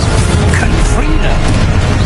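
Confringo blasting spell from Hogwarts Legacy detonating in a loud, dense boom that fills the whole short moment, a sustained roaring burst with rumbling low end and no clear gap.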